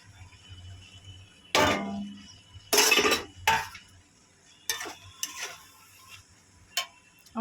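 Egg, onion, chilli, capsicum, beans and tomato fried with Maggi masala being stirred into boiled Maggi noodles in a home kitchen, heard as a few separate clinks and scrapes of a utensil against a pan, fairly close, with quiet pauses between.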